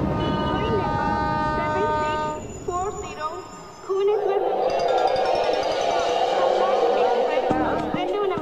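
Train running through a Telugu-dubbed movie scene, a steady rumbling rail noise with tonal horn-like notes at the start, continuing under background movie sound and dialogue.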